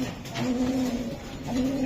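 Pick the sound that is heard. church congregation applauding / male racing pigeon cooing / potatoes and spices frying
male racing pigeon cooing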